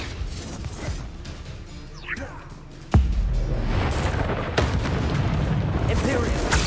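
A Confringo spell explodes in Hogwarts Legacy: a sudden loud boom that breaks into a dense, sustained roaring rumble over busy game-battle noise.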